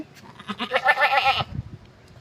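A goat at a goat sale gives one short, wavering bleat at close range, clear and alone, followed by faint low rustling.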